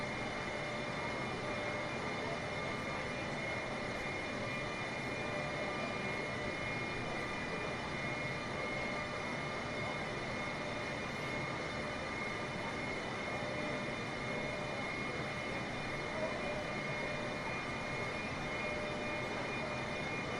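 Boeing 747 engine drone in Microsoft Flight Simulator 2020, a steady, continuous broadband roar with faint tonal whine, unchanging and fairly loud for the whole stretch, with no talk.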